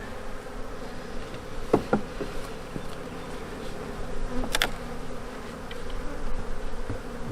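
Honeybees hum in a steady, close buzz at the hive, with individual bees flying past the microphone now and then.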